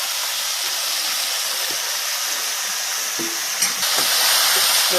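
Chopped onion and garlic fry in hot oil in a pan, giving a loud, steady sizzle and hiss with a few faint stirring clinks near the end.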